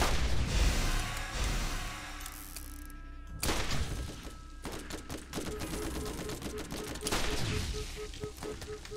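Rapid gunfire and explosions in the video game Borderlands, dense bursts of shots and impacts crackling over a busy game soundtrack, loud and continuous with brief pauses.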